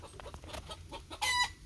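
A hen clucks with a small chick close by, a quick run of soft, rhythmic clucks ending in a brief louder squawk, with no talk.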